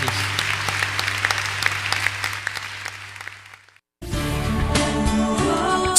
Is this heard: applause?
yes